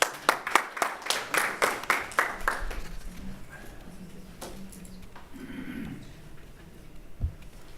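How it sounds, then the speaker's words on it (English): An audience at a wine business research conference gives a round of applause for a presenter. Loud, distinct claps ring out for a few seconds, then thin out and fade into a quiet room with faint shuffling. "Let's give her a round of applause"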